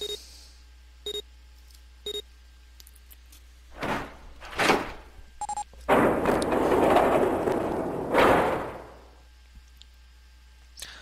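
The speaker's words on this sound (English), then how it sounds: "The door had opened." A door opens in the puzzle adventure game 9 Hours 9 Persons 9 Doors: a few short electronic beeps, a couple of thumps, then a loud mechanical whoosh and grind of the door sliding open for several seconds before it fades.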